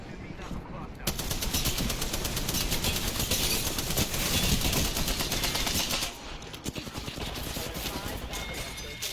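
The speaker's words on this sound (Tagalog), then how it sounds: "Knuckle clusters firing." Knuckle cluster grenades launching and bursting in Apex Legends, a dense, loud barrage of rapid crackling explosions and gunfire that runs nearly unbroken, thinning slightly toward the end, with game voice lines over it.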